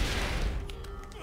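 Heavy gunfire in Borderlands bursts out at first, a rapid loud volley that gives way to a few sharper distant shots as it fades.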